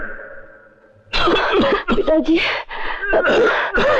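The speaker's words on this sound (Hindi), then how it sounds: "आपकी खांसी बहुत बढ़ रही है।" After a faint tone, someone coughs repeatedly in harsh, rasping bursts, close by, with strained vocal sounds between the fits.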